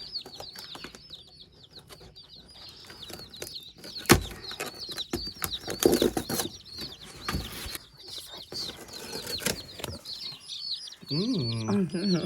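Newly arrived baby chicks give a steady stream of high, rapid peeping, close by. Handling thumps and rustling break in at intervals, and a brief low voice is heard near the end.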